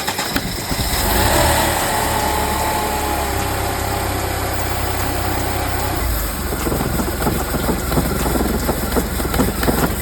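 The supercharger on a Mercedes C32 AMG makes a faulty noise as the car runs, a constant whine over a low rumbling idle. Close and steady, it turns rougher and more rattly in the last few seconds, with no voices.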